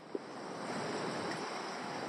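Water rushes over falls on Sanford Lake in Ontario, a steady, close, broadband roar that carries on unbroken with no voices.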